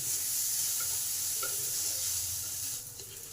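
Mango pulp being stirred into banana flower mash in a pan, a steady soft sizzle and hiss with faint scraping throughout, close and continuous with no talk.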